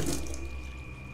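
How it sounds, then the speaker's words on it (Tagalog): Water running in a bathroom, a steady rushing stream as from a tap, continuous and fairly close, with no voices. "marinig kong lumalagaslas ang tubig sa CR"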